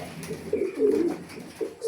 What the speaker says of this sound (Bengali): এই যে দেখেন, খুবই স্ট্রং, বিগ সাইজের একটা কবুতর।